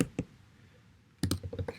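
Keystrokes on a computer keyboard, a couple of isolated clicks early on, then a quick burst of several taps near the end, close and fairly quiet with no talking.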